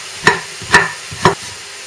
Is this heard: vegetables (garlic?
yes